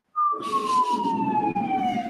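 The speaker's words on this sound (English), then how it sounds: "all of a sudden I started hearing sirens" An emergency vehicle siren from a nearby firehouse starts suddenly and wails in one long, slowly falling tone. It is loud and clear over a rumbling engine, and nobody speaks over it.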